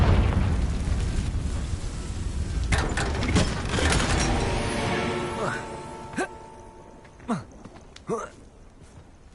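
A Confringo fire spell bursts in Hogwarts Legacy on PS5: a heavy, rumbling blast with crackling debris that slowly fades, followed by a few sharp pops and thuds, while a player's voice calls out over it.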